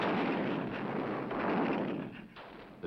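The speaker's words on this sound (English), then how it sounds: "they're shattered by the anti-aircraft batteries of the German 88mm cannons" German 88mm anti-aircraft cannons fire in a continuous rumbling barrage, a dense, sustained roar of overlapping blasts that fades slightly toward the end.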